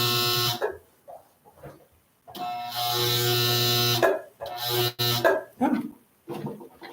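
A home sewing machine stitching fabric pieces together on a half-inch seam runs in loud bursts of harsh, buzzing drone that stop and restart unevenly, as if the machine is faulty.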